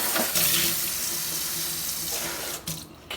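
Water runs steadily from a kitchen tap while hands are washed during chicken lasagna preparation, a close, continuous hiss that lasts throughout with a brief break near the end.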